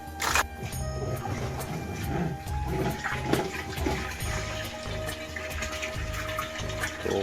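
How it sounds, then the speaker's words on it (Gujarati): Water runs continuously from a tap, a steady rushing flow with a low, pulsing hum underneath and no talking. "પાણી તો આવવાનું ચાલુ થઈ ગયું છે ધીમે ધીમે"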